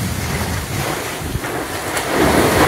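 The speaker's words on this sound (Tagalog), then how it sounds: "Lakas ng alon." Strong sea waves surge and wash continuously close by, mixed with heavy wind buffeting the microphone, the roar swelling louder toward the end with no voices.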